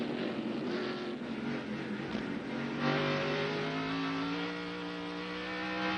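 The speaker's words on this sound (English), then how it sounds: "We can hear Boris Said accelerate off the corner, shifting." A race car at the 1997 Exide/Kragen 151 accelerating out of a downhill corner, engine note climbing in pitch with audible gear shifts, heard fairly loud from trackside throughout.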